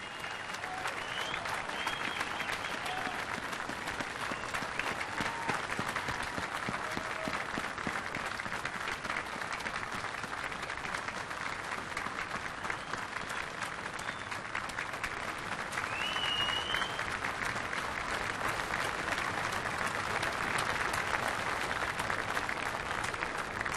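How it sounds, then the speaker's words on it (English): A large audience at a warship commissioning ceremony applauds in a steady, dense wash of clapping that holds evenly for over twenty seconds, somewhat distant and soft, with no voices over it. "please give them a round of applause"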